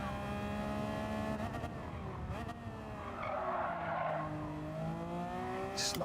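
Race car tyres squealing and skidding in Gran Turismo 7 as the car slides through a corner, under a loud revving engine that shifts pitch, with brief speech mixed in.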